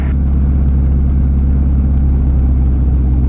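Gyroplane engine held steady near 2,000 RPM with the pre-rotator engaged, a loud continuous low rumble with a constant droning tone throughout, no voices.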